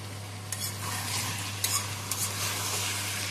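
Chicken sautéing in a pan with plenty of liquid still in it, a steady close sizzle broken by a few sharp stirring scrapes and knocks, with a low constant hum underneath and no talk.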